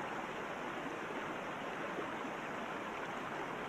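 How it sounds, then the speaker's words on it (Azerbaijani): Mountain spring water pours steadily from rock on a hillside, a continuous close rushing wash with no breaks and no voices. "Nə gözəl bulaqdır bu."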